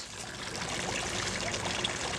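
Continuous gentle trickle of a garden pond waterfall falling into the pond, a steady splashing wash with no voices.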